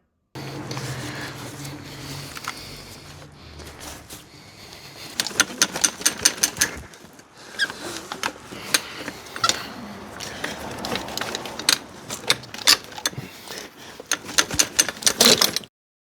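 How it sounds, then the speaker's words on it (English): A small tool pries a hose clamp off the engine of a Mini Cooper S R53. Close metallic clicks and rattling taps come in irregular bursts, with quieter handling noise between them. "thanks to this little tool, I was able to pry it open and help it come out"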